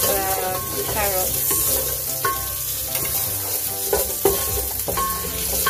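Carrots sizzle in a pot while butternut squash soup is cooked, a steady frying hiss with scattered stirring clinks and scrapes, close and moderately loud with no talk.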